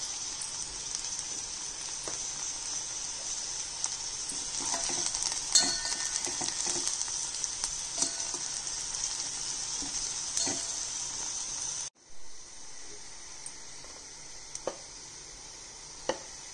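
A tempering of asafoetida sizzles loudly in hot oil for a mung bean dal, giving a steady bright crackle with scattered pops that cuts off abruptly and then fades to quieter spitting.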